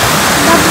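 A waterfall roars as a dense, steady rush of water, loud and close, filling the whole moment.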